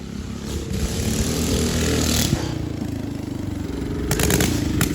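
A Coleman BT200X mini bike engine revs hard and steadily nearby, a loud, rough, buzzing drone with rattly clatter that holds high throughout and surges slightly near the end.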